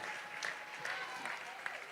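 Audience at a charity auction gala applauding and cheering for a bidder, steady clapping and crowd noise filling the room at moderate volume.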